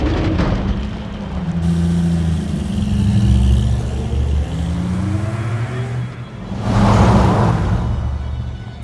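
Car engine in Dying Light 2 revving and accelerating as the vehicle drives, a steady loud motor drone that rises and falls, with a sharp surge of revving near the end.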